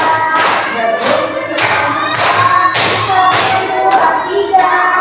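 A primary-school class claps fingers together in a counted chant, giving sharp, evenly spaced snaps roughly every half second. Children's voices chant along over the claps.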